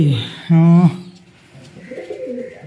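Brief throaty cooing of blue pigeons, close by, followed by soft rustling and quieter background noise.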